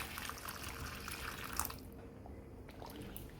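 Water is poured into a pan while cooking a vegetarian Burmese khao suey coconut noodle soup: a steady close splash and trickle for about two seconds that then stops, leaving quiet room noise.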